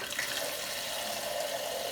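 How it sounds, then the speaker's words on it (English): Water runs from a kitchen faucet into a Brita filter pitcher set in the sink, a steady, close rushing splash that holds at an even level throughout with no voices. "put it in the sink, and turn on the faucet to fill it up"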